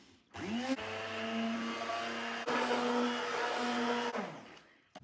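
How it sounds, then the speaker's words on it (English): An immersion blender purees cooked fresh pumpkin in a home kitchen, switching on with a steady high-pitched motor whine that holds for about four seconds, briefly dips, then winds down, loud and close with no talking. "I want to puree it now, so I'm going to use my immersion blender."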